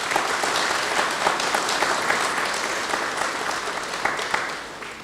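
An audience applauds with a continuous, dense clatter of clapping that holds steady for about five seconds before tapering off at the end.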